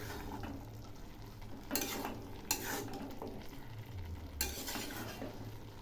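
Spinach leaves and peas fry in a pan while being stirred, a soft steady sizzle broken by a few louder scraping sweeps of the spoon against the metal.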